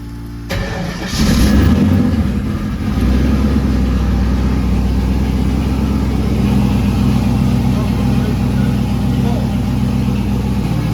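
An LSx V8 in a Ford Fairmont street car cranks and catches about a second in, then settles into a loud, steady, rumbling idle that runs on uninterrupted, with some voices faintly underneath.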